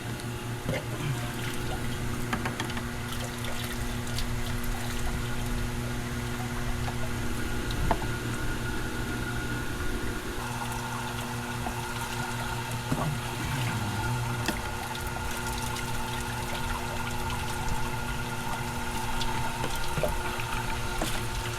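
A Red Lion jet pump hums steadily with a constant tonal drone while water flows and splashes continuously, fairly close and without talk.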